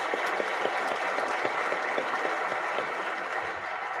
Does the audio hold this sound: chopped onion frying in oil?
no